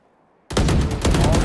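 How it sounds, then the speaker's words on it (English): Wall bang gunfire in the tactical shooter Valorant, a sudden loud burst of rapid shots after brief near silence, close and sustained to the end. "He's going to get a wall bang shot."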